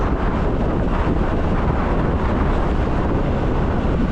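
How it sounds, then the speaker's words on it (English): Strong wind on an island coast buffets the microphone with a loud, continuous rushing roar that never lets up, no voices. "when the wind is blowing as much as it is now"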